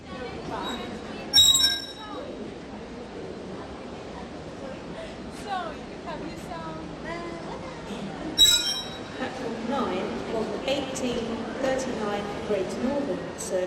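A London Underground train at King's Cross St Pancras rumbles and squeals through the station, with clinks and a brief loud burst near the start and another midway, while voices and platform chatter carry on beneath.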